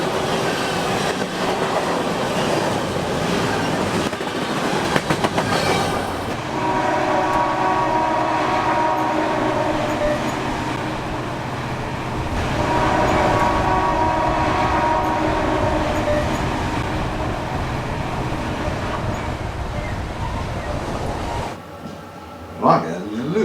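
Freight train pulled by two or more locomotives rumbling past, a loud steady roar of wagons with rhythmic rail clatter and sustained tonal whine, close and continuous until it fades out near the end, with a faint voice in the background.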